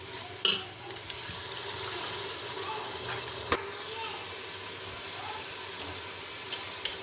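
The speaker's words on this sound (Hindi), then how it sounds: "इसमें थोड़ा सा पानी ऐड कर लेंगे कि मसाला लगे ना नीचे" Minced bean masala fries in a pan after a little water is added, a soft continuous sizzle with a few sharp clinks of a utensil.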